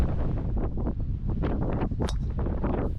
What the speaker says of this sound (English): There is massive wind. It's probably 30, 40 knots.